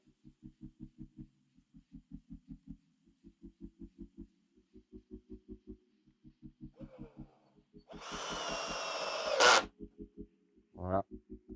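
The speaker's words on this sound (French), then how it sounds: "et maintenant, on visse." A screw is driven into the wood of a Warré beehive cushion kit. A steady, rhythmic low pulsing runs throughout, then a loud sustained whirring burst lasts about a second and a half, followed by a brief final burst.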